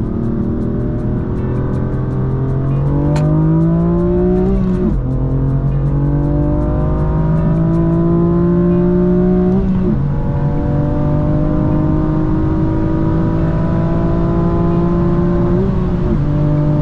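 A stock manual BMW M4 Competition F82 with a turbocharged engine accelerating hard through a 60-130 run, its loud engine note climbing steadily through each gear and dipping briefly at three shifts, continuous and close.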